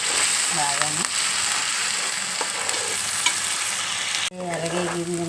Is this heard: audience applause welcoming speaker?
no